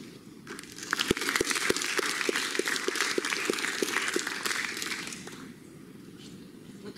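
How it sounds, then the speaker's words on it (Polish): Audience applause at a nongovernmental organizations forum in the Lublin region, a dense crackle of clapping that builds within the first second, holds steady and loud, then thins out and fades toward the end. "Duże brawa zaocznie."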